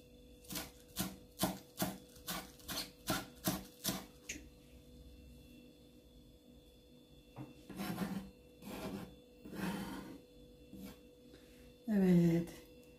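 A knife chops three or four sprigs of parsley for a cold summer salad, giving a quick run of about eight sharp, evenly spaced cuts up close, after which a few softer kitchen rustles and handling sounds follow.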